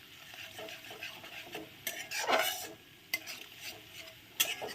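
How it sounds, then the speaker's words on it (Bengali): Ginger being fried and stirred in a pan over a low flame, with a soft steady sizzle and scattered scraping and clinking of a utensil against the pan, close and fairly quiet with no talk. "যখন আদাটা দেবে না, একটু লো ফ্লেম করে দেবে, নাহলে না একেবারে ঝট করে আদাটা পুড়ে যাবে"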